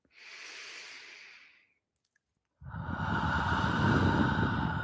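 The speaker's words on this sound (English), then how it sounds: "take a deep and clearing breath" A deep, slow breath drawn in and then let out in a long audible exhale during a quiet guided yoga nidra meditation, close and alone with a brief pause between.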